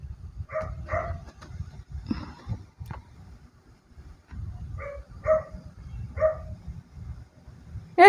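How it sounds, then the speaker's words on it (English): A dog barks in a series of short, sharp woofs: a quick cluster early, a pause, then another run of barks near the end, fairly close and loud over a low background hum. "It's the dog."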